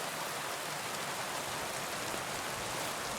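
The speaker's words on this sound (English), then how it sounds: "It'd be better if it wasn't raining, though." Steady rain falls in the medieval world of the video game Kingdom Come: Deliverance II, an even, continuous hiss of drops that holds at a constant level throughout with no voices.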